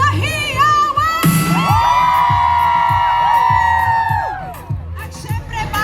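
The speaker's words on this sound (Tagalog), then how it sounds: "Isang malakas na hiyawan!" Loud crowd of Filipino overseas workers at an Independence Day festival in Hong Kong, bursting into shrill shouts, whoops and cheering that swell and hold, then ease off near the end.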